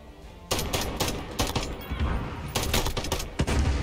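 Rapid bursts of automatic gunfire in the video game Modern Warfare, loud clustered volleys one after another with faint voices underneath.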